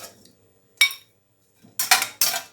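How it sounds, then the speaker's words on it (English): Cooked fish lifted out of a frying pan, with a single clink of utensil on the pan followed by a pause and then a cluster of louder scraping, clattering metal sounds close by. "the fish is now cooked, and I'm going to take it out of the frying pan"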